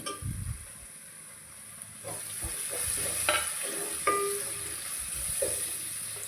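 Tomato pieces with turmeric fry in a hot pan and are stirred, a low sizzle with a few scattered scrapes and taps of a utensil, fairly faint and close.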